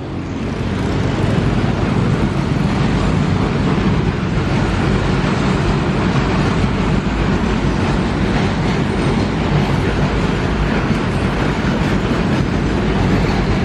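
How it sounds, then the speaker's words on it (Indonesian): A train rolls past on the southern line near Cibatu station, a loud, steady, close rumble with rail clatter that fills the whole stretch without letup. "KLB rel sudah melintas di petak stasiun Bandrek, stasiun Cibatu"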